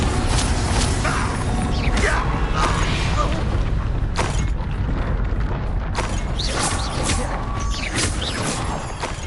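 Blasting spell explosions in the video game Hogwarts Legacy burst with loud booms, crashes and crackling debris over a heavy, continuous rumbling bed, with several sharp impacts spread through the passage.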